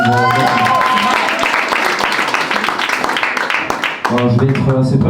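A live comedy crowd claps loudly for an audience member named Natacha, a steady wash of hand claps lasting a few seconds, with someone talking briefly at the start and again as it dies away.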